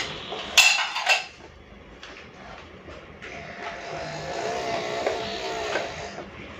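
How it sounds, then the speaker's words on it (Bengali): Rice being served onto plates with utensils, two sharp metallic clinks near the start followed by softer scraping and shuffling of plates and spoons close by. "চলুন এরপরে ভাতটা বেড়ে নিই।"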